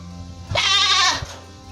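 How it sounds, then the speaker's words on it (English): A single bleat from an animated goat in a children's animal-names lesson: one loud, close, wavering cry lasting under a second, with no talk. "Goat. This is goat."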